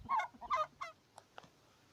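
A hen gives several quick nasal honking calls in a row, followed by two faint clicks, close and fairly quiet.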